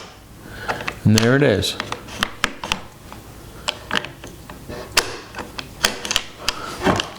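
Mosin Nagant rifle bolt with a snap cap in the chamber, worked and locked up: a string of sharp metallic clicks and clacks under a man's close-up talking.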